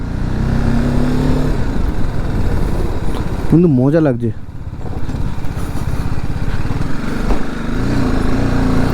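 A BMW motorcycle engine drones steadily and loudly throughout on a snowy off-road mountain road in North Sikkim, dipping briefly midway, while someone talks over the ride.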